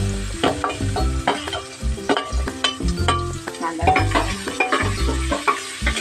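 Onion frying in oil in a pan for Khandeshi masala rice, with a steady close sizzle broken by repeated stirring and scraping strokes at an uneven rhythm, and no voices.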